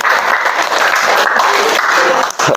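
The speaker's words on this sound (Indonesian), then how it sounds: "Tepuk tangan." Steady applause from a crowd fills the whole stretch, dense and loud, with a few voices faintly mixed in near the end.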